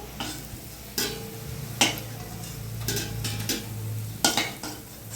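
Fried banana kofta dumplings in a pan give off a steady low sizzle, broken by sharp clinks and scrapes of a spatula against the pan at irregular intervals, close and alone with no voices.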